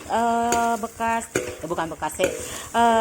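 Stir-frying in a pan while cooking lontong sayur, with a utensil scraping and clinking against the pan amid soft sizzling, broken by several sustained tonal hums and a voice speaking intermittently.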